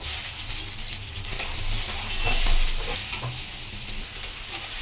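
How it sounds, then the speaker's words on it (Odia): Onions frying in hot oil with cumin seeds and bay leaf give a steady, close sizzle with occasional stirring scrapes. No one talks over it. "ପିଆଜଟା ଟିକେ ଭାଜି ଆସେ"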